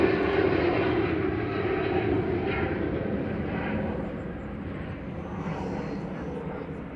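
Singapore Airlines flight 51, a jet airliner departing Manchester Airport, roars steadily and loudly throughout, its broad engine rumble slowly easing while voices talk faintly underneath.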